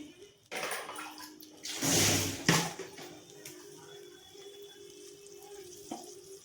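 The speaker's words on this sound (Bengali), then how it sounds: "দিয়ে দিলাম, হাতটা ধুয়ে নিই।" Hands being washed under a running kitchen tap during home cooking, a brief broadband splash of water lasting about a second, close by, followed by quieter kitchen background.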